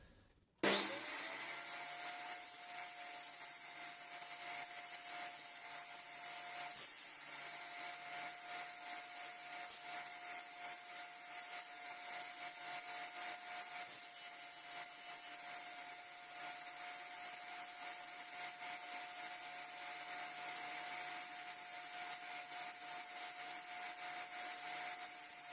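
A wood panel is cut into a circle with a cutting jig and a power tool, giving a steady, loud, continuous whirring cut that starts abruptly and runs unchanged for the whole stretch, with no talking.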